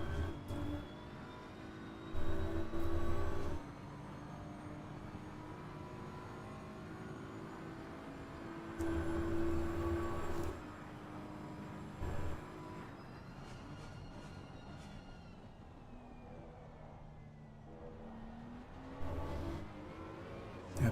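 A BMW race car in a sim racing video game at Monza drives at high speed, its engine a continuous droning whine with several louder surges and shifts in pitch, with no talk over it.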